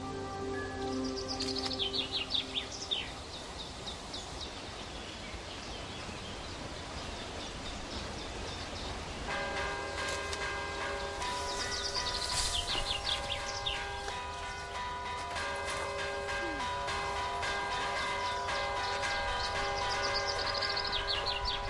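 Church bells ring in the village of Villavante, Spain, entering partway through as steady sustained tones over outdoor ambience, with birds chirping throughout.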